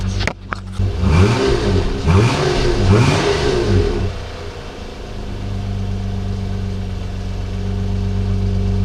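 Car engine with an overfilled crankcase revs up hard in several rising and falling bursts over the first four seconds, then settles into a steady loud idle with a low drone.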